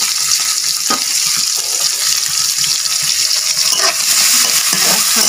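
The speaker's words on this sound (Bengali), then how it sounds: "মাছটা ভালো করে ভাজি করে নিতে হবে।" Prawns seasoned with salt and turmeric fry in a pan, a loud steady sizzle and hiss with occasional stirring scrapes, close up and continuous.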